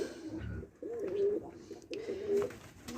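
A pigeon coos at a rural home in two clear, repeated rounds of soft, throaty calls, fairly close but quiet against a faint background, with no talk.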